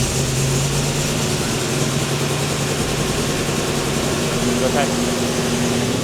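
A TVR car engine runs steadily after finally starting, a continuous close droning hum with a faint rising whine near the end, while a voice speaks briefly over it.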